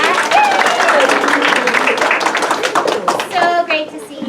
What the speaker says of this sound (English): So can we give a little clap for that?